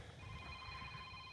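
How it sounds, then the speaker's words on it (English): A mobile phone rings faintly with a steady electronic tone over low background hum, heard outdoors near a brush pile by a road. "Now my phone's ringing."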